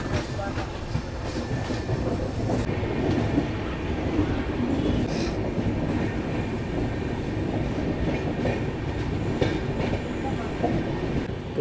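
A passenger special train from Darbhanga to New Delhi rolls along steadily, wheels clattering over rail joints with a constant rumbling roar heard from near an open door, occasional squeals and faint background voices.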